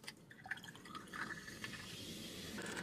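Drink poured from a cup, a faint, soft trickle of liquid with light splashing that runs quietly for a few seconds.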